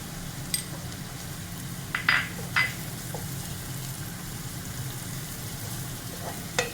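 Crushed chili and chili powder frying in hot oil for a watermelon curry, a steady soft sizzle and hiss with a few sharp clinks of a spoon against the pan, no voices.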